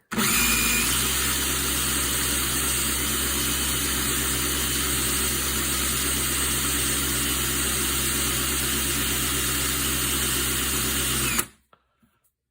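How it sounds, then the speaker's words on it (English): A power tool polishes a part from a Joseph Lang & Sons gun under misfire repair, giving a loud, steady whirring hum for about eleven seconds before it abruptly stops, followed by a couple of faint clicks. "Just need to do a little bit more polishing."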